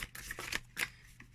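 Thin matte tarot cards are shuffled overhand, producing a few quick, soft, papery riffling bursts in an irregular rhythm, close up and quiet with no talking.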